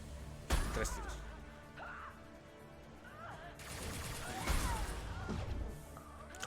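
Gunfire in the video game Mass Effect 2 comes as a few sharp, loud blasts with crashing impacts and whooshing effects, set against a busy game soundscape.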